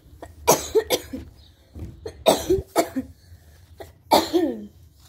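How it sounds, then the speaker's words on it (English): Several sharp coughs in separate bursts come from a person during a game of hide and seek, with brief vocal sounds between them, close and moderately loud. "when I keep running, I just cough."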